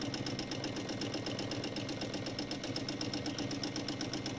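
A sewing machine runs at a steady, moderate speed, stitching backwards and forwards through fabric for a quilted pinwheel flower, its rapid, even mechanical chatter continuous and close with no voices.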